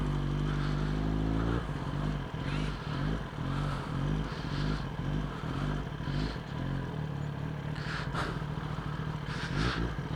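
Kawasaki ZX10R sport bike engine revving hard on a dyno after a remap, a loud close roar that climbs in pitch through repeated throttle pulls with rattling clatter and brief bursts between revs.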